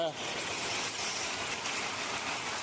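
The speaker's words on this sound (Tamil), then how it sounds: "இங்கே சக்க மழைங்க பயங்கரமாக பிடிச்சிது" Heavy rain pours down in a steady, dense hiss at close range, with no break across the short stretch.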